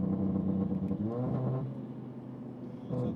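Audi TT RS tuned to 650 hp, its engine rumbling and revving up nearby with a steadily rising tone, then easing back before another brief surge at the end.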